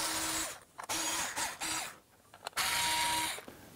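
A screwdriver or small tool works on screws holding a circuit board on a DR model boat motor, giving close, loud, broadband mechanical grinding and ratcheting in several bursts with short pauses between.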